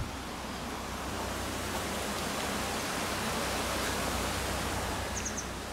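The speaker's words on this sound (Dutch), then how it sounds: "In Limburg is de enige plek waar je kleine watervalletjes hebt." Small waterfall in Limburg, a steady, even rush of falling water that fills the whole stretch at constant loudness, with no voices over it.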